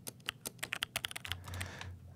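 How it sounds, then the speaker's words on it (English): Computer keyboard typing generated as a sound effect in Tsugi DSP software, with a quick run of distinct close key clicks and taps, some sharper strikes, and a low hum swelling under the last part. "This is a computer keyboard."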